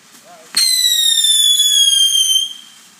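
A firework goes off with a sharp bang, then a long, loud descending whistle that holds for about two seconds before fading out.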